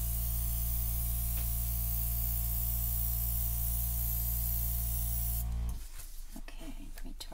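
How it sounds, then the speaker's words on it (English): An airbrush blows a steady hiss of air over poured acrylic paint from up high, running continuously and loud before cutting off near the end, leaving quieter rustling handling noise. "I'll blow it a little bit with the airbrush, and that will blend it right in"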